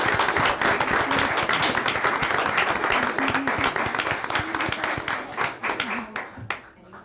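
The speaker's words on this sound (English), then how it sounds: "let's give Maura and her kids a great round of applause" An audience at a mayor and council meeting gives a dense round of applause with sharp individual claps, tapering off at the end, with some voices mixed in.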